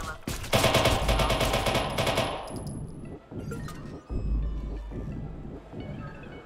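Gunfire in Watch Dogs 2, heard as a loud burst of rapid automatic fire that fades out, followed by a couple of lighter, spaced single shots with echoing tails.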